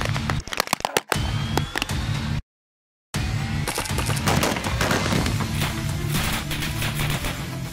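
Gunfire from commando military training under the Azerbaijani Ministry of Defence: a few sharp, loud shots open, then after a brief gap comes a dense, continuous crackle of rapid automatic fire.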